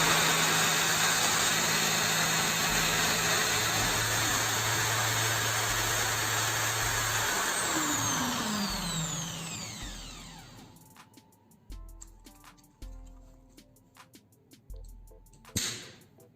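A power drill bores holes into a plastic bottle for a homemade sling bow. Continuous motor whine fills the first ten seconds, then breaks into short separate bursts that start and stop.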